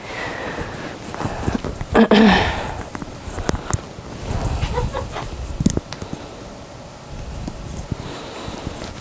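A pet bird squawks and clucks from another room indoors, a few scattered calls at a moderate distance with one louder burst, over light background noise.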